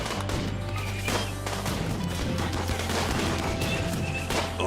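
Rapid gunfire in the colony survival game RimWorld, a dense, steady clatter of shots and impacts over a low humming background, heard throughout without speech.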